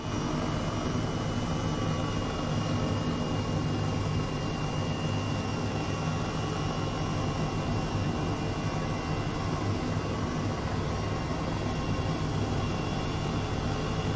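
Steady, loud helicopter rotor and turbine drone in Microsoft Flight Simulator 2020, a continuous unbroken engine roar with no talk over it, heard on a flight to Iceland's Fagradalsfjall volcano.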